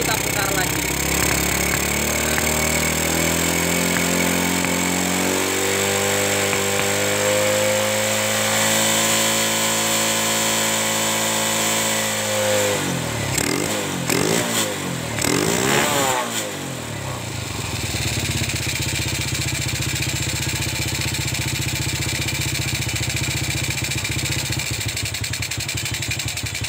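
A motorcycle engine idles steadily while its carburetor is adjusted, a constant mechanical drone with shifting pitch as the engine speed rises and falls midway, then settles back into an even idle.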